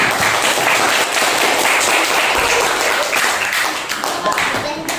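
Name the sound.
classroom applause for all students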